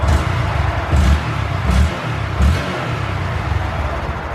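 A 2020 Honda Grom motorcycle engine revs on a dyno drum in a loud, close series of three or four throttle blips that rise and fall over a constant rumbling idle.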